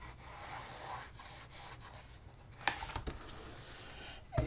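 A hand and then a bone folder rub and burnish paper for a garden box inner lid, giving close, steady dry scraping strokes with a few sharper scuffs near the end.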